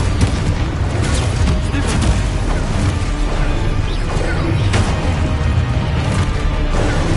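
Dense, continuous barrage of booming blasts and crashing impacts from Confringo fire spells cast in Hogwarts Legacy combat, loud and sustained throughout with layered explosive bursts.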